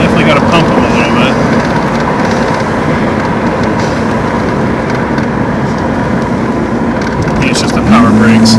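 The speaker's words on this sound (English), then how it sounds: "first test drive in the Camaro" Camaro on its first test drive, a steady broadband engine and road rumble holding constant throughout, with people talking over it inside the car.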